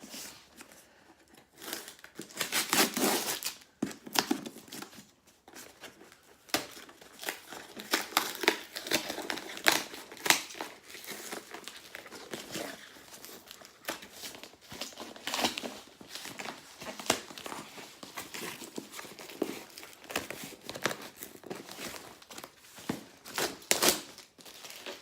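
A small mailed parcel is opened up close, with rustling, crinkling packaging and tearing of wrapping that come in irregular bursts over about twenty-five seconds, with no talking.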